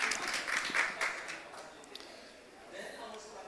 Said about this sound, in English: Big round of applause, please, for Mr. Ferdinando Regalia.